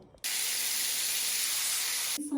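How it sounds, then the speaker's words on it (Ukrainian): Chicken breast drops into hot ghee in a frying pan and sizzles with a loud, steady hiss that starts abruptly and holds close to the pan. "на сковорідку тепер поклала масло кхі. Ви можете любе вершкове олію, яке у вас є, і буду підсмажувати грудку"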